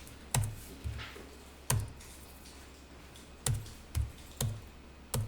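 Short keystrokes on a computer keyboard as a date is entered for an electronic tax invoice, arriving as scattered single clicks and small bursts, close and clear against a quiet low hum with no talking.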